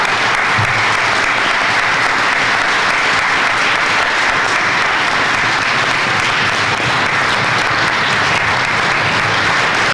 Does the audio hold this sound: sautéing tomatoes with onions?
no